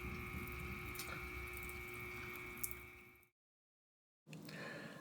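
A pond pump pushes water through a hose to hand-spray potted orchids in semi-hydro pots indoors, a steady close hiss of running spray that cuts off briefly, then resumes.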